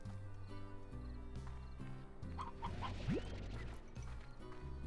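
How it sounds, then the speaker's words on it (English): Chickens cluck in the Slime Rancher video game world, scattered bird calls over a steady layered music bed, with a brief rising whistle-like sweep near the end. "Wow, there's a bunch of chickens in here."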